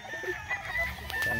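A rooster at a gamefowl farm crows nearby in a sustained, drawn-out call, with other fowl clucking around it and no talk over it.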